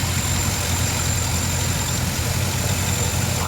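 A red 2015 Chevrolet Camaro Z/28 idles steadily with a low, even engine rumble heard alone, with no talk.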